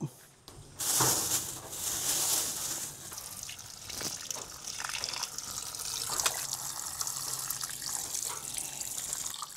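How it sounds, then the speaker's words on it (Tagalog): Tap water runs steadily into a campsite sink while shrimp are rinsed under it, giving a continuous close splashing gush with brief surges and a voice speaking faintly beneath. "So hugas muna tayo ng shrimp."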